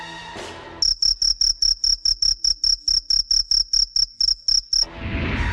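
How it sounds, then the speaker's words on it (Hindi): Crickets chirping on a dark, quiet night with a light breeze, a loud, close, high trill pulsing in about twenty regular bursts, framed by soft ambient noise before and after. "झिंगुर बोल रहे"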